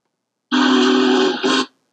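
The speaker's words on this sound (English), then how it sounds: "I have this train whistle file I can open and play." A loud, clear train whistle sounds alone in two connected blasts, a long tone followed by a brief dip and a shorter second toot.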